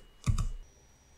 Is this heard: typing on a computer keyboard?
yes